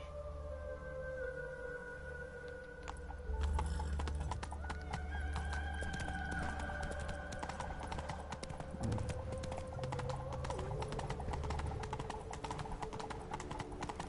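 Roach, a horse in The Witcher 3: Wild Hunt, gallops with steady loud clip-clop hoofbeats, a whinny and game ambience layered underneath, continuous throughout.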